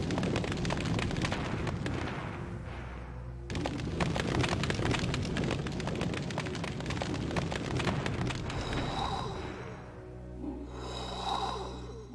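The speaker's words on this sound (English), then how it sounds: "That's a fireball launcher." Fireball launcher blasts in a video game, a dense run of loud booming explosions and rumbling bursts that cut out briefly and resume, then thin to softer bursts near the end.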